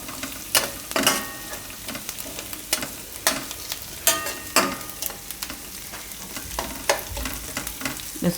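Thecha chowmein noodles being stirred and fried in a pan, with a soft continuous sizzle under repeated scraping and clattering strokes of a spatula at an uneven rhythm, close by.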